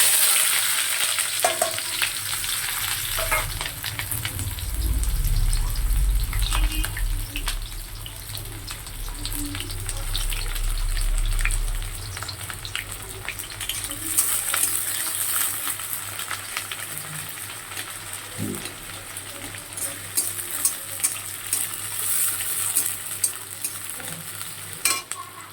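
Chopped onion dropped into hot oil in a kadai, a loud roaring sizzle swelling early on, then settling into steady crackling and pops with stirring clatter throughout.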